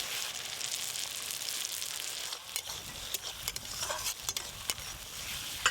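Chopped onion, green chili, turmeric, chili powder and gram flour frying in a pan, with a soft continuous sizzle and several scraping stirs of a spoon, the strokes growing more distinct toward the end.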